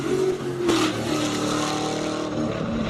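A BMW Z4 race car with a 7-litre V8 LS engine racing in a hill-climb event, a loud, sustained, deep engine roar with a sharp rise in revs, heard close throughout.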